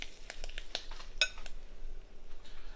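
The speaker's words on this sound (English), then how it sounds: "And you stir that around and it'll be done." A utensil clinks and scrapes against a pan while wilted lettuce is stirred around for a Southern Sunday lunch. The taps and rattles are close, light and irregular, with no talking.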